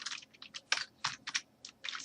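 Typing a resident's name on a computer keyboard: a short, uneven run of close, crisp key clicks with brief pauses between strokes.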